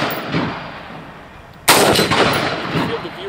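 A single loud rifle shot cracks on a practical rifle competition stage, fired through a 1.5x scope at a steel star target, followed by a lingering outdoor echo after quiet ambient noise.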